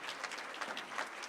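A high school audience applauds its school team, a brief burst of dense clapping from a crowd at moderate distance.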